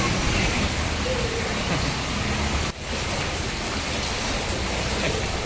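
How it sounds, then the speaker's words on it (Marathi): Heavy monsoon rain pours down steadily near a flooded tunnel and swollen river, a dense continuous hiss with a brief dip midway. "पाणी भरलं, एवढा पाऊस पडते."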